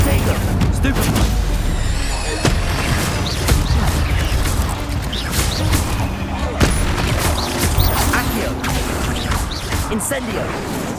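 Fiery spell bursts and impacts from an Incendio cast in the Hogwarts Legacy video game, a dense run of loud blasts, crackles and booms amid continuous combat noise and music, with a voice talking over it.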